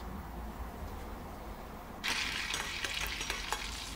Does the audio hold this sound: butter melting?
yes